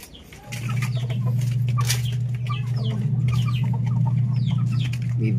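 Chickens, a hen with her chicks including a black one, cluck and chirp over a steady low droning hum, with occasional wing flutters, fairly close and continuous.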